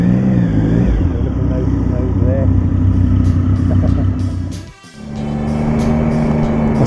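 An Aprilia Tuono V4 APRC or Triumph Speed Triple 1050 motorcycle is being ridden, its engine droning loud and close throughout. It rises and falls slightly, briefly drops away near the end, then picks back up.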